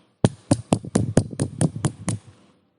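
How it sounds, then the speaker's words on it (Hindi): About nine sharp claps in a steady, evenly spaced rhythm, close and distinct with brief decays between them, as a congregation at a Sunday church worship service claps together before falling silent. "तालियां।"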